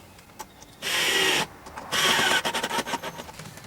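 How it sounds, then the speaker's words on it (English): A power screwdriver drives screws into pre-drilled holes in a wooden board, with two loud whirring bursts followed by shorter clicks and stutters as the screw seats, all close and without talk. "so now we can screw that in"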